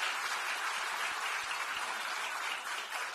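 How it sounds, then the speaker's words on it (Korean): A packed hall at a party gathering electing a National Assembly speaker candidate erupts in steady, warm applause, a dense continuous clapping that fills the room without any talking. "다시 한번 우원식 국회의장 후보께 따뜻한 박수 부탁드리겠습니다."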